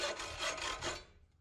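A metal ring is cut through by hand with a saw, giving about four quick rasping strokes close by before the sound fades out, with no talk.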